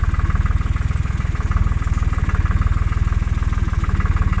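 A Tümosan tractor pulling a cultivator runs steadily, its diesel engine chugging in a fast, even low throb, close and loud throughout with no talking.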